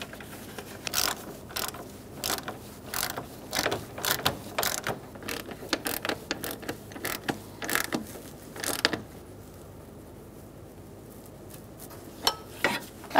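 Quick ratchet clicks come in short bursts, separated by brief pauses, as bolts are tightened on the AC condenser of a Ford Ranger with a 3.0L V6. The sound is close and fairly quiet.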